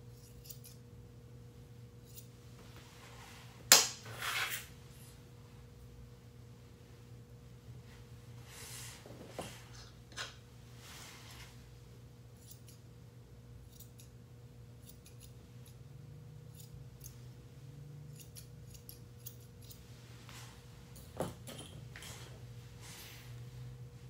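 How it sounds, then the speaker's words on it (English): Grooming scissors trim a poodle's coat, cutting straight up and down. A few faint, sparse snips sound over a steady low room hum, with long quiet gaps between cuts. "So I take my scissors straight up and down"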